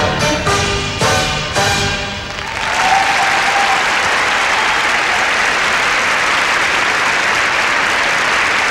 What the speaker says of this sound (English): the crowds have responded well to Punsalan and Swallow up here in Canada